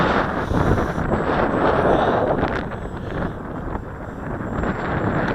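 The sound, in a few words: gusty wind on a hilltop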